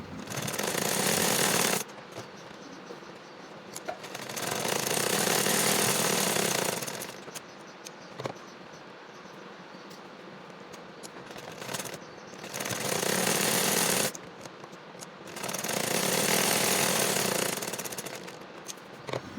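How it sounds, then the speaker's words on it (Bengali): A sewing machine stitches the shoulder seams joining the front and back of a child's top, running in loud, steady bursts of several seconds each, with short quieter pauses between runs. "আমি দুই পাশের কাঁধের সেলাইগুলি দিয়ে সামনে এবং পেছনের পার্ট দুটি জোড়া লাগিয়ে নিচ্ছি"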